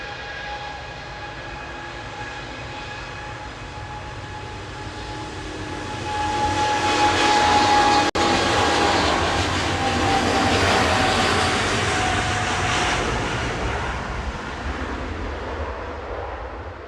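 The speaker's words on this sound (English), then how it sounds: "Ethiopian 727 heading back to Addis Ababa" An Ethiopian Airlines jet taxis at Manchester Airport on flight 729 to Addis Ababa via Geneva, its engine whine and rumble building midway into a loud, steady roar that lingers and slowly fades, heard alone.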